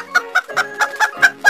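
A chicken clucks in a quick, steady series of about seven short, tonal clucks, close and fairly loud, with no talking over them.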